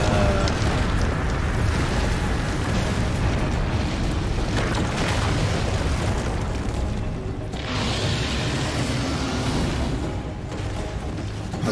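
A bomb goes off in the action game Darksiders 2 within dense, continuous rumbling and booming game noise that stays loud for the whole stretch, with a brief swell near the middle.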